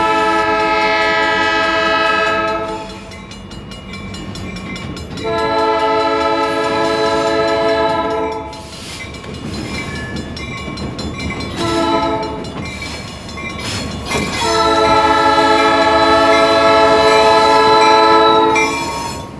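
A CPKC freight train shoves boxcars nearby while its horn blasts in several long, loud sustained calls, with rumbling and rail noise between them.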